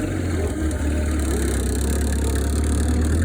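Cub Lo Boy 154 tractor engine running steadily under load while plowing dirt, a close, continuous low drone with a faint rattle and no talk.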